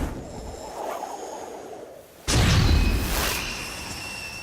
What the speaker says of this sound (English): And Magic Missile sounds like this.